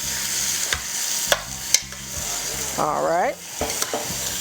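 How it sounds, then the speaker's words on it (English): Bell pepper and onion stirred in a hot pan with a spoon, a few scraping knocks and a steady sizzle, close by, with a brief spoken word at the start. "Let me give you a stir over here."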